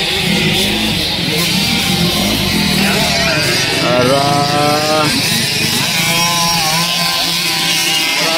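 50cc racing motorcycle engines at a South Cotabato versus Maguindanao race, loud and continuous with rising and falling whining revs across the whole stretch, crowd noise and a commentator's voice mixed in.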